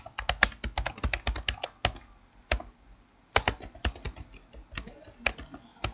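Someone types an institute's name on a computer keyboard, giving a quick, uneven run of close, crisp key clicks with short pauses between bursts.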